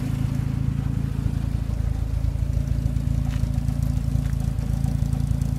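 An older carburetted car engine idles steadily, a low, even throbbing hum with a regular mechanical pulse at moderate volume and no voices.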